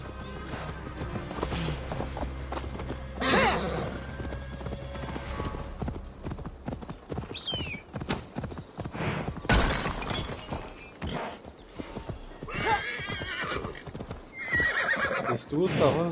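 Horse hooves clip-clop in Assassin's Creed Valhalla, mixed with whinnies, a shattering crash and game effects, while players talk over the action.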